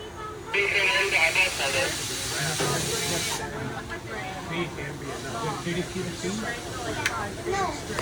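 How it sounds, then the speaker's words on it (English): Steam train departing Soak City Station on the Kings Island & Miami Valley Railroad, heard on board: loud hissing bursts of steam over a steady rumble and rail clatter, with voices talking in the background throughout. "Blue train is leaving Soap City Station."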